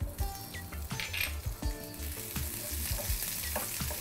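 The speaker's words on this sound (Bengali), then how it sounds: "একটু ভাজা ভাজা করছি" Onion frying in a pan for Bengali egg curry with poppy seed paste, a steady close sizzle with frequent scraping and clinking stir strokes throughout, no talk.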